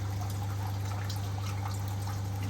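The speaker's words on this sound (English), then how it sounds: "Okay, so drip acclimating the fish just now." Water trickles steadily into a bucket while reef fish, pintail wrasses and anthias, are drip acclimated for a 180-gallon reef tank; a soft continuous dribble with faint drips sits over a steady low electrical hum, and no one speaks.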